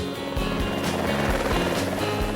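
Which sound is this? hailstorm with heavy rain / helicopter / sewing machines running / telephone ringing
helicopter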